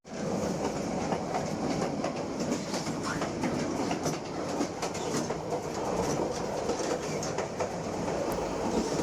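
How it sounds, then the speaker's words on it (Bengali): Sagardari Express running fast on a broad gauge line in Bangladesh, Khulna to Rajshahi route: a loud, steady rumble of the moving train with rapid clickety-clack from the wheels, heard from on board with no talking. "আপনি ব্রডগেজ রেল লাইনে চলাচল করলে আপনি বুঝতে পারবেন ট্রেনের আসল গতি, আসল মজা এবং আসল খ্যাতি।"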